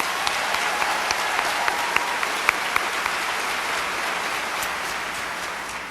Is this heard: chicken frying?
no